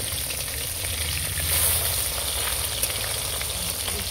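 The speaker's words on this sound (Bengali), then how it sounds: "ভালো করে ভেজে নেব।" Fish pieces fry in hot oil in a wok, a dense continuous sizzle heard close and fairly loud, swelling slightly midway, with no talking.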